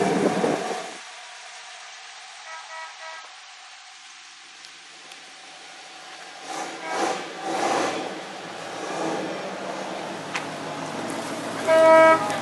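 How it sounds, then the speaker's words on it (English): A horn on a 1950 Ford Custom Deluxe Fordor sedan riding in a small-town railroad days parade gives short, faint toots amid quiet street ambience, with a louder brief blast near the end. "Honk."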